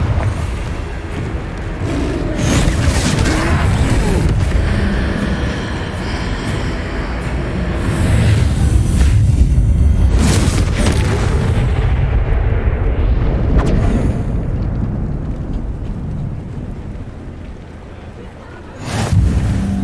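The Confringo blasting spell goes off in the video game Hogwarts Legacy, a loud rolling explosion with booming, rumbling impacts that swell and linger amid ongoing game combat noise.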